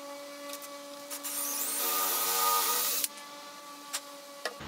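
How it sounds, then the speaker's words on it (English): A power drill with its depth collar set bores dowel holes into the edges of a wooden shelf for a TV console table, a steady whirring burst of about a second with lighter tool handling before and after. "going to drill these dowels into the edges of our shelf to hold it in place"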